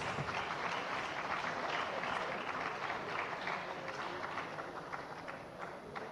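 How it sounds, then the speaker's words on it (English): Sustained applause from an audience at the Ehingbeti Summit 2022 in Lagos, a dense steady wash of clapping at moderate level that carries evenly through without a break. "I think Lagos deserves a round of applause."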